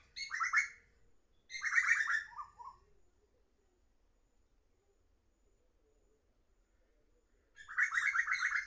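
A small wild bird calls in three bursts of bright, rapid chirps and trills, fairly close and clear, separated by quiet pauses with faint background hum.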